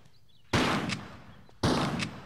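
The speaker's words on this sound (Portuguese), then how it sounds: "dois tiros na fuça dele para ele não jogar veneno em você" Two loud gunshots fired in the Tomb Raider 3 video game, each a sharp close blast followed by a short decaying tail, spaced about a second apart with no talking.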